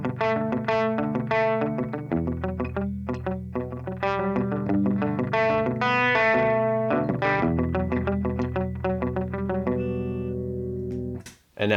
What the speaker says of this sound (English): Now, adding that with delay pedal.